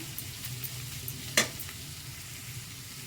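Onion, capsicum and other vegetables fry with salt in a pan, giving a steady close sizzle with one sharp scrape of a spoon stirring partway through.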